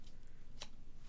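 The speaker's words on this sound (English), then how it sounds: "I'm just going to snip off enough to tie a bow" Scissors give one crisp, close snip as a piece is cut off to tie a bow on a handmade braided card, alone against quiet room tone.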